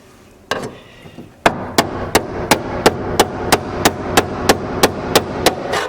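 Sharp, ringing hammer blows on metal, knocking out a spot weld on a Ford Taurus, struck at a steady, even rhythm, a dozen or so hits close by after a brief scuffle.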